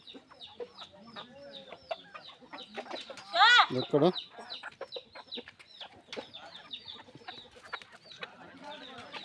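Farmyard chickens and a rooster cluck and squawk in busy bursts, with one louder squawk midway, while a person talks over them throughout.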